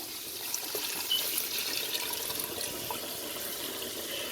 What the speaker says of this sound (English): what you want to do is go ahead and add some water